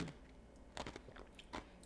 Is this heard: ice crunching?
yes